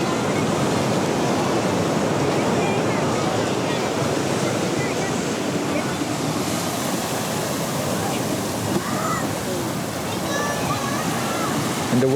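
Ocean waves at Palmilla Beach in Los Cabos, a steady broad wash of calm surf that stays constant throughout, with people talking over it.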